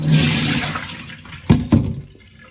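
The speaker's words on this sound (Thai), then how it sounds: "กรองให้เขาเสด็จน้ำค่ะ แล้วก็ใส่กระชอนค่ะ" Water from soaked, cooked mung beans pours through a strainer in a short loud gush that fades, then a couple of brief splashes follow.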